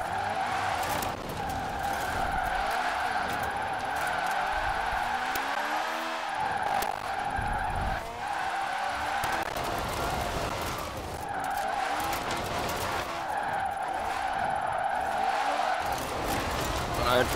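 Tyres of a Citroën 2CV squeal and skid in long sustained bursts as the small car drifts on tarmac, the screech rising and falling over a steady engine drone, with people talking over it.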